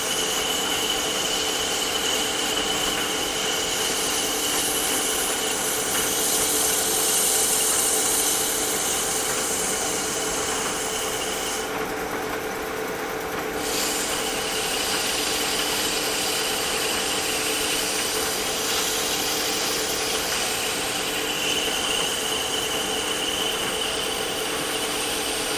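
A walnut chess pawn spins on a wood lathe while 120-grit sandpaper is held against it, making a steady, close whirring hiss with a constant motor hum for the whole stretch, and no talking.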